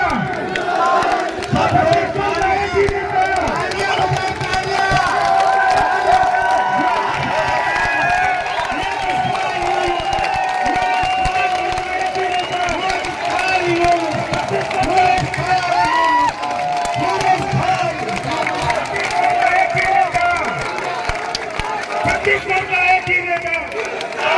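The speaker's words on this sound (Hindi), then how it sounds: "सब लोग तालियां बजा के बोलेंगे छत्तीसगढ़ का एक ही नेता" Large crowd clapping and chanting slogans in unison at an outdoor political election rally, a steady dense roar of many voices and hands continuing throughout with a leader's voice over it.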